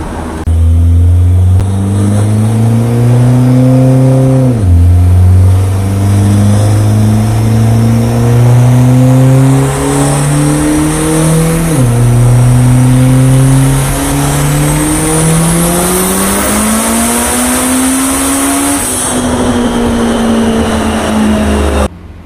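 A turbocharged 1G DSM engine pulls hard on a dyno at 40 psi of boost, a loud, sustained roar that climbs steadily through each gear, with brief drops at the shifts before rising again.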